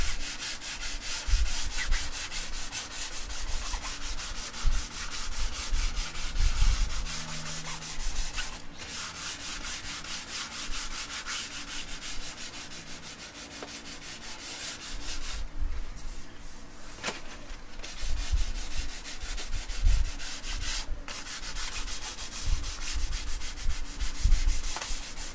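Hand sanding on the sprayed finish of a left-handed Tele style electric guitar kit body, rapid rhythmic rubbing strokes repeating close up, with a few short pauses between passes.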